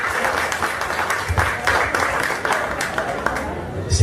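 Applause for Jacinto from a community gathering audience in Pirapetinga, steady clapping throughout with some murmuring voices mixed underneath.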